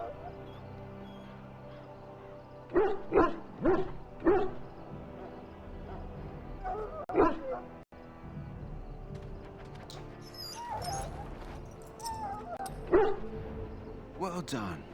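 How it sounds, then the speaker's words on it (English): Dog in the video game Dragon Age Origins whimpering and barking in short repeated bursts, close and fairly loud, with game speech and ambient sound in between. "Now I can treat the dog properly, poor fella."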